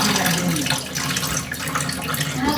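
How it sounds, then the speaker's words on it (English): Water is dumped out of a container of raw chicken being washed in a kitchen, pouring as a steady, close, loud splashing rush from start to finish with no talk. "We're just going to dump all the water."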